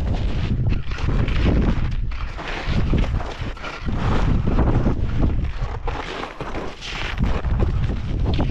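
Strong wind roaring over the microphone on the Großvenediger summit during a ski tour at around minus 25 degrees, a steady loud gusting rush with no speech.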